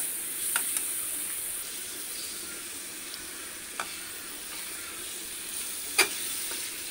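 Prawns sizzling with ground coriander, cumin and garam masala in a pan for prawn pulao, a steady broadband fry hiss with a few soft stirring clicks, fairly quiet and without talk.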